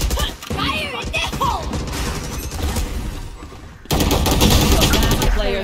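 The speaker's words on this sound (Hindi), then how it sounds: "enemy fire" Enemy gunfire in the Valorant video game, loud rapid bursts of automatic shots with crashing impacts, continuous and intensifying near the end, with a voice talking over it.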